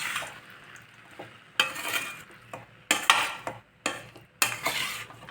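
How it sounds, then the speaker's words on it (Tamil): A spoon stirs sabudana upma, a tapioca pearl dish with lemon juice, in a pan, giving several distinct scraping bursts with quiet gaps between them, close and fairly soft with no talking. "இப்போ வந்து ஒரு டைம் கிளறி கொடுத்துடலாம்"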